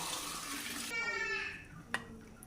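Water is poured into a bowl of cornflour to thicken a chicken soup: a steady, gushing stream fills the first part and tapers off, followed by a small clink.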